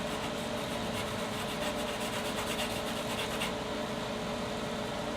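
Sandpaper rubs along the shoulder edge of a Michael Kelly S Type guitar neck, producing a steady, soft rasping scrape close by, with no voices.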